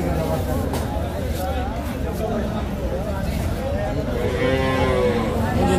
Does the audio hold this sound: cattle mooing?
yes